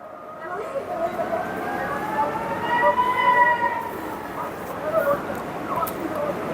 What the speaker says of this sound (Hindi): जब ईरान की मिसाइल गिर रही है और सायरन बज रहे हैं